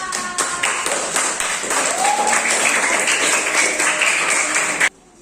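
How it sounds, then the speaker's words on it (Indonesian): Classroom applause for a student after a coding and AI training reflection session: a steady burst of clapping from a small group of students, fairly close, running about five seconds before cutting off abruptly. "Boleh tepuk tangan, Nova."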